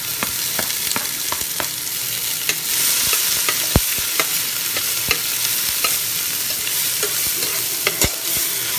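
Onion and garlic sautéing in a pan for pork binagoongan, a continuous loud sizzle with frequent scraping clicks from stirring, close and without talk.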